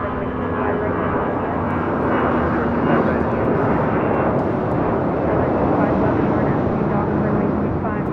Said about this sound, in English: Next departure is Delta Airlines flight 2004 heading to Denver, Colorado. It's an A319 already in the air.